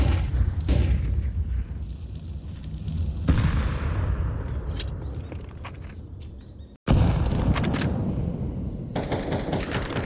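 Grenades are thrown in Counter-Strike 2 during a professional esports match between FaZe and Cloud9, with steady loud game noise and booming bursts throughout and a brief dropout near the middle.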